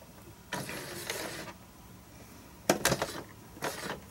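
A sewing machine doing free-motion stitching in circles on fabric runs in short close bursts of rapid mechanical whirring, separated by pauses, with no talking.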